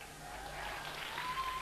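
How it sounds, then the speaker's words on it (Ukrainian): Applause from a concert audience, a quiet, steady wash of clapping heard from a distance, continuous throughout. "Ваші вірливі оплески"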